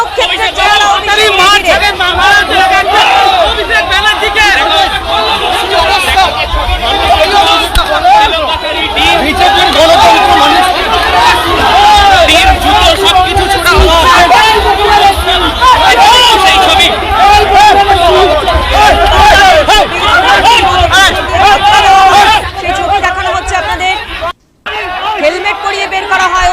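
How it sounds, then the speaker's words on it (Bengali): Dense crowd noise at a rally in Sonarpur, West Bengal, where protesters chant slogans calling Abhishek Banerjee a thief, loud and sustained, a mass of overlapping shouting voices with no single clear speaker. "চোর চোর স্লোগান দেওয়া হয় অভিষেককে দেখে"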